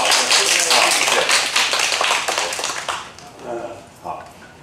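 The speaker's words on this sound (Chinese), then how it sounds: "鼓掌一下" An audience at a university panel discussion on AI poetry and image co-creation applauds a speaker, dense clapping for about three seconds before it thins out and a voice talks.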